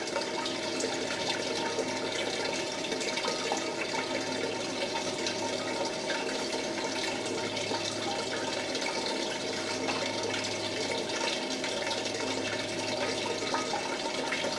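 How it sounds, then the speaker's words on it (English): Water flowing steadily through a blue bowl gold concentrator, a constant moderate rushing and trickling wash with no pauses and no voices. "Let's turn that water flow down a bit."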